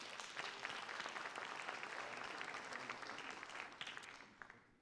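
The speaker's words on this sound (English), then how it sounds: "Please round of applause for them." An audience at a high school senior scholarship night gives a steady round of clapping that stays fairly even, then tapers off at the end.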